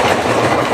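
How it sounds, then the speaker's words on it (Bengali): A train passing nearby, loud and close, a brief burst of dense rumbling rail noise with rolling wheel clatter and no voices. "এই যে একটা ট্রেন যাচ্ছে।"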